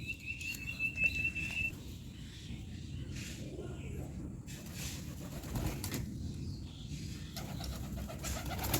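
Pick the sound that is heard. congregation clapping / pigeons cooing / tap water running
pigeons cooing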